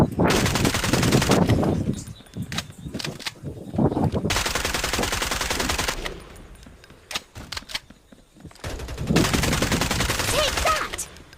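Loud sustained machine-gun bursts in the battle royale game Farlight 84, several long rattling volleys broken by brief gaps and scattered single shots, with some talk in the background.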